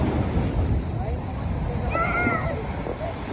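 Wind buffets a handheld microphone on a beach at Pantai Remis under overcast skies with big waves, a continuous low rumbling roar that stays loud throughout, with a voice talking briefly over it.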